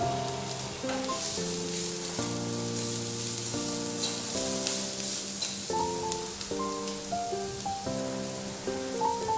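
Onions frying with salt in a pan give a constant soft sizzling hiss, heard beneath steady background music throughout.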